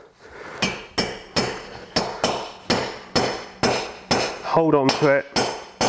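Hammer striking an inserting tool to drive a valve guide into a classic motorcycle cylinder head during a restoration, about ten sharp metallic blows in a steady rhythm, close, with a brief spoken phrase between hits.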